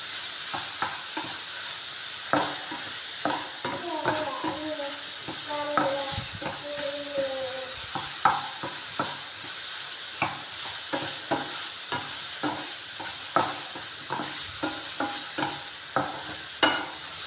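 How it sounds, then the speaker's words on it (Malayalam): A plantain mixture is stirred as it fries in a pan, a soft continuous sizzle broken by regular scraping strokes of the spoon, close and moderately quiet. "ഒന്ന് വാടി വരുന്നത് വരെ നമുക്കൊന്ന് ഇളക്കി കൊടുക്കാം"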